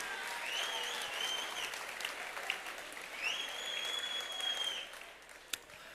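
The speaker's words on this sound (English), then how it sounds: "Give them a round of applause." Audience applause in a lecture hall at a campus talk, a steady moderate wash of clapping lasting several seconds, with faint whistles or squeaks riding over it and a sharp knock near the end.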